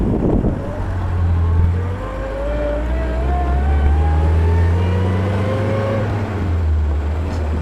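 A 1954 Sunbeam Alpine drives and accelerates, its engine note loud and close, climbing steadily in pitch through a gear before easing near the end.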